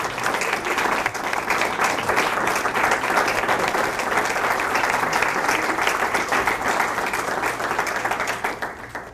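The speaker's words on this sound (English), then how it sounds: "how about a round of applause for the teachers" A middle school audience at a speech contest gives the teachers a sustained round of dense clapping that holds at an even loudness throughout and tapers only slightly at the very end.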